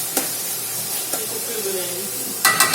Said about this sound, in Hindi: ये प्याज है ब्राउन होने के लिए रखे हुए हैं।